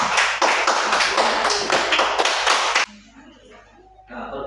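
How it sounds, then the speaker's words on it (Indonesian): An elementary classroom of fifth graders bursts into loud, dense applause for a student group for about three seconds, then drops to a quieter room with soft voices and shuffling. "Tepuk tangan buat kelompok C."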